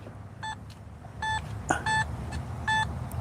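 A metal detector sounds short electronic tone beeps while sweeping over a buried target, four brief even pulses spaced irregularly over low background rumble, faint and close.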